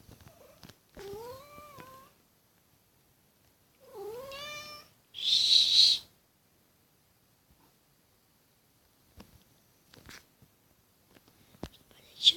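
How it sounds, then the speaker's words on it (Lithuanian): A house cat gives two drawn-out meows a few seconds apart in a quiet indoor room, followed by a short, breathy burst of noise, then near silence broken by faint clicks and taps. "jeigu katė trukdo"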